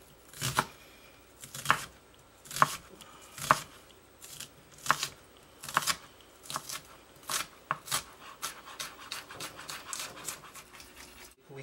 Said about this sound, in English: you'll just end up slicing it, which is a safe way to cut